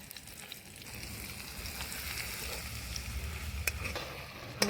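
Ginger garlic paste sizzles and fries steadily in a pan for a large mustard rohu fish dish, a continuous crackling hiss with a few sharper pops toward the end.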